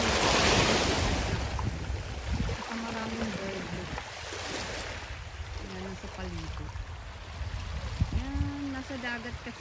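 Sea waves wash steadily onto the shore at Balintore in the Scottish Highlands, a broad continuous surf roar mixed with gusts of wind buffeting the microphone, while a few voices talk faintly in the background.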